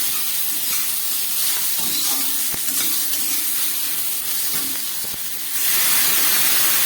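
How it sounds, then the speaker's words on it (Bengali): Prawns fry again in a pan with a steady hiss and sizzle, soft scraping stirs and a couple of sharp knocks, the sizzle swelling louder near the end; close, no voices. "চিংড়ি মাছ দেওয়ার পর আবারও আবারও খানিকক্ষণ আমি ভালো করে ভেজে নিচ্ছি"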